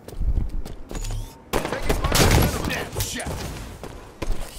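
Gunfire in a Halo multiplayer match: bursts of shots and impacts crackle through the clip amid dense game noise, with a brief quiet gap before a loud resumption.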